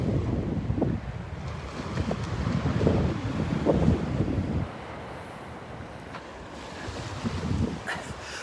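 Waves break and wash onto a North Naples, Florida beach, a few rumbling surges with wind buffeting the microphone, then a quieter lull before another swell rolls in.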